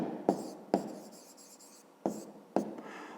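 A pen or pencil writes an answer into a fifth-grade maths exercise book, with short, close scratchy strokes in several separate bursts and quiet pauses between them, and no talking.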